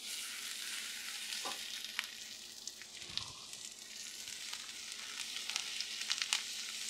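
Butter sizzles steadily in a hot pan for an Asian-style low country boil, with a continuous loud frying hiss broken by scraping stirs and small crackles throughout, and no voices.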